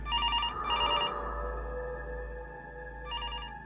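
A telephone rings in two quick electronic bursts, pauses, then rings once more, clear and close over a low steady hum, with no one speaking.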